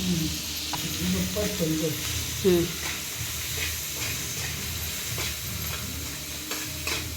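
Green chillies frying in oil in a kadhai, a steady close sizzle with stirring scrapes throughout, a voice talking over it.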